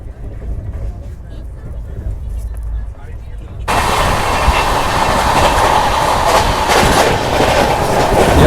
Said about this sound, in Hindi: यहाँ पर भाई तेज रफ्तार में स्किप हो रहा है सिकोहाबाद जंक्शन का।